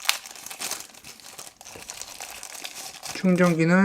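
Paper packaging from a Unihertz Titan Slim phone crinkles and rustles close up as it is handled, with a voice talking over it and a brief tonal sound at the end.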